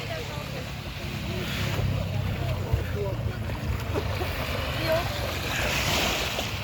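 Sea waves wash steadily at a beach in Phuket, a broad continuous surf roar mixed with wind buffeting the microphone, loud and unbroken throughout.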